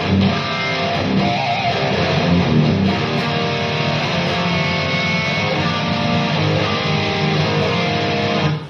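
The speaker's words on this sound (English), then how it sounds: "I'm tuned quite low on a short scale guitar, but you can hear all the notes in the chord" A thick, heavily distorted chord on a down-tuned, short-scale high-gain electric guitar rings out steadily, dense and loud with low-end weight, sustained for several seconds with no voices.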